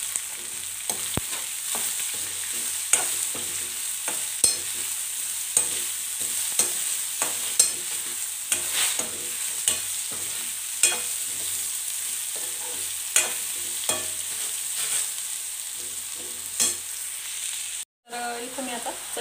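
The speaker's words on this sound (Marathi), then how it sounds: "त्याच्यानंतर हे कट केलेले गिलके याच्यामध्ये टाकून द्यायचे" Chopped ridge gourd sizzles steadily in a pan with a little turmeric, while a utensil stirs it and taps the pan in a loose, repeating rhythm. The sound is close and continuous, with no talking.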